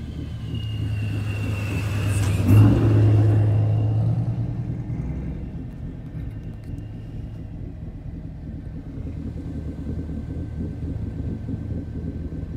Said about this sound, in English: You can hear Justin's car cam and stuff